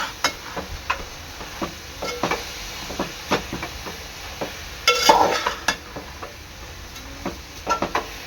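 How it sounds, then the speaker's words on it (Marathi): Amaranth greens stirred in a pan for an oil-free Maharashtrian rishi bhaji, giving repeated scraping and clacking strokes at an uneven rhythm over a low background hiss, with a brief louder burst partway through. "आता इथे माठ टाकत आहे भाजी आहे ना चांगली मिक्स करून घ्यायची आहे"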